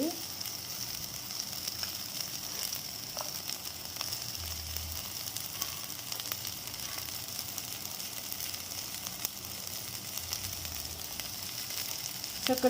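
Onions fry in a pan for a prawn dish, giving a soft, steady sizzle and crackle that holds evenly at low volume without any voices.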